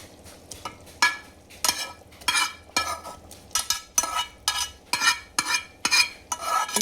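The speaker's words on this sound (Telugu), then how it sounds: "ఇప్పుడు సొరకాయ ఫ్రై చేసింది వేస్తున్నాను, సొరకాయ తురుము వేస్తున్నాను." Fried grated bottle gourd being stirred into sago kheer in a pot, a steady rhythm of scraping, sloshing spoon strokes about every half second, close and clear with no talking.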